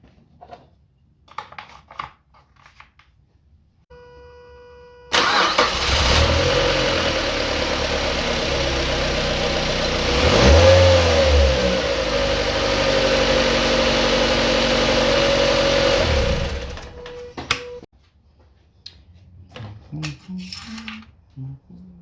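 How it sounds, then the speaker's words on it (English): A Mazda MX5 engine cranks and catches during maintenance, idles steadily at close range with one brief rev in the middle, then shuts off after about twelve seconds. Quiet shuffling noises come before and after. "And now we're gonna start the engine and check again."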